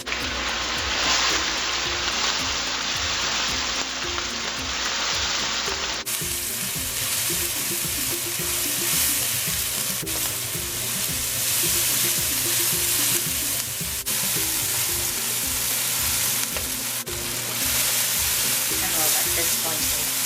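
Black shrimp sizzle and fry in a pan with ground garlic, wiri peppers and onion for a curry, a loud continuous close crackle with stirring scrapes throughout.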